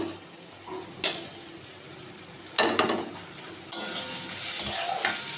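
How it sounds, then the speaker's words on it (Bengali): Spice masala with coriander powder and chopped tomato fried and stirred in a pan: a low sizzle punctuated by several distinct spoon scrapes and metallic clinks against the pan, close up and without speech. "মশলাটা আমার এখানে ভালোভাবে কষানো হয়ে গেছে"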